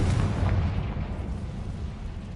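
A Confringo fire spell detonating in Hogwarts Legacy, a deep rumbling burst with a low roaring tail that fades over about two seconds, heard alone without talk.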